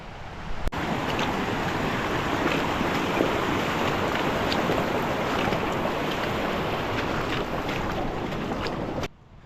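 Steady broadband wash of water sloshing and splashing around boots while wading across a shallow, shingly stream on a fell walk in the Lake District, continuous and close for about nine seconds before stopping abruptly.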